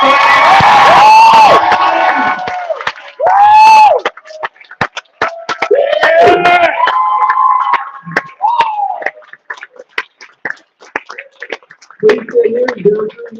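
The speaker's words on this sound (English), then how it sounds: "We may actually have a bigger crowd than we did for Jaws and Richard Drops" A convention crowd at a horror fan event cheers and whoops loudly in bursts, with shouts and scattered claps fading into sparser noise and calls toward the end.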